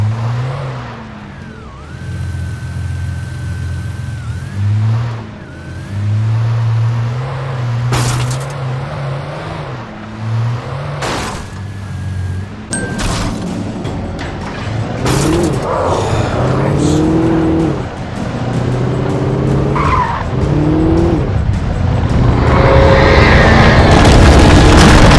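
In the video game Alan Wake, a car drives around a roadblock, its engine revving and shifting loudly up close, with gear changes, thuds and impacts throughout and a rising roar toward the end.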